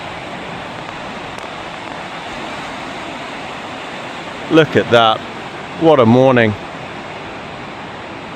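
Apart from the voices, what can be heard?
ocean waves on beach during storm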